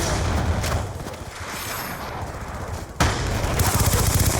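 Assault rifle gunfire in a French-language video game, rapid bursts of shots rattling loudly and continuously, with a brief dip before another sharp volley starts near the end.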